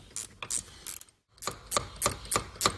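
A ratchet wrench clicks in quick, sharp bursts while turning a bolt on the door hinge of a 2006–2013 Chevy Impala, close and crisp, pausing briefly before another run of clicks.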